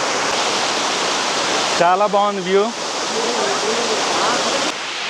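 Constant rushing roar of a waterfall on the Netravathi trek in Karnataka's Western Ghats, loud and steady, with someone briefly speaking over it midway.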